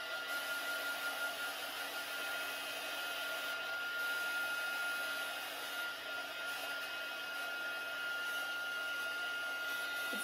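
A heat gun runs steadily while drying paint on a terracotta pot, a continuous whirring blower hiss with a high tonal whine, close and unbroken for the whole stretch.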